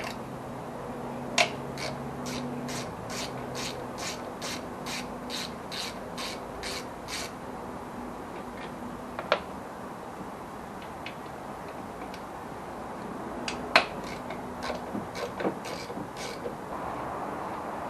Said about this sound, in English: undo the Allen key bolts that hold this on